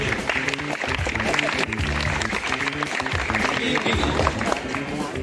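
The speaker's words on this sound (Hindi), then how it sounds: "अरे ऑडियंस के लिए ताली बजाइए." Audience clapping at a school science quiz competition, a crowd applauding in a broad steady roar while music or voices carry underneath.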